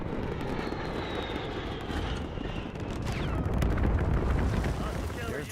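Strategic bomber aircraft roaring overhead in a multiplayer shooter game, a loud sustained engine drone that swells toward the end, with muffled blasts and voices talking underneath.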